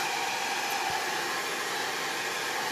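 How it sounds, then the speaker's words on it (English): A hair dryer blows steadily and loudly throughout, drying a chalk craft project, a constant airy whoosh with a faint motor whine and no talking. "you can take your hair dryer and just kind of dry it."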